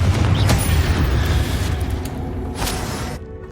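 Spell blasts in Hogwarts Legacy boom out in a dense, rumbling barrage, with a couple of sharp bursts and whooshes cutting through before the sound suddenly cuts off.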